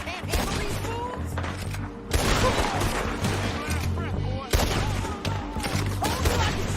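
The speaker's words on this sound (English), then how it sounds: "Told you I could shoot a gun" A Red Dead Redemption 2 shootout keeps up repeated gunshots and volleys of fire, with loud cracks in clusters over a steady background as characters talk amid the shooting.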